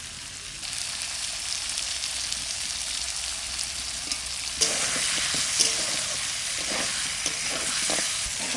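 Potato pieces frying with salt in a pan for a sea para fish curry: a continuous hissing sizzle that grows louder partway through, with light utensil scrapes and taps.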